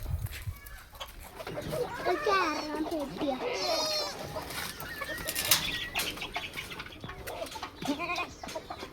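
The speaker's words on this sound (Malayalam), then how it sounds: "ഒരാഴ്ച പ്രായമുള്ള ഒരാടും 2 കുട്ടികളും" A Malabari goat and her two-week-old kids bleat in short wavering calls amid farmyard noise, with chickens clucking and a voice talking in the background.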